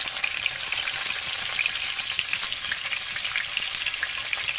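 Cumin seeds sizzle and crackle in hot oil in a pan at the start of a chicken fry, a steady dense frying hiss with fine popping throughout and no voices.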